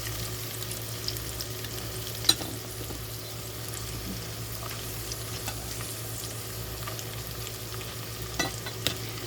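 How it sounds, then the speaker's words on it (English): Celery and carrots sizzle steadily in a pot with onions as soup is started, a constant low frying hiss with occasional stirring clicks, fairly quiet and without talk. "Now I'm going to add some celery and some carrots into here."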